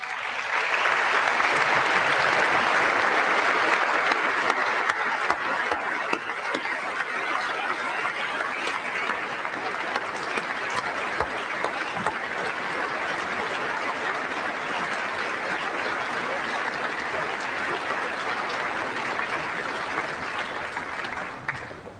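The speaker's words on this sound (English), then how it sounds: "The applause filled every corner of that room." Sustained applause fills a legislative chamber during a presidential address, a dense, steady roar of many hands clapping that swells loudest at the start and continues evenly for over twenty seconds with scattered voices underneath.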